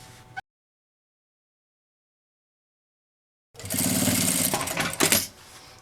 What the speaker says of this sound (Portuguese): dobro ele e vou costurar ele aqui para fazer um acabamento